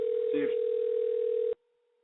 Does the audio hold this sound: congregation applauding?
no